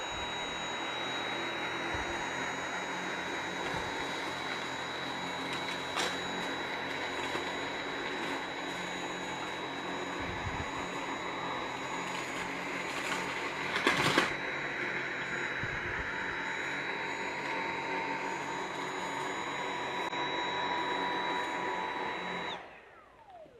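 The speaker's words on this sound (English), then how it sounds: "let's take this vacuum and do one pass forward, one pass back, and just see how well the Dyson Motorhead picks up." A Dyson V7 Motorhead cordless vacuum cleaner runs continuously with a steady high-pitched whine and broadband airflow hiss, close and loud throughout, with a brief clatter midway before it powers down at the end.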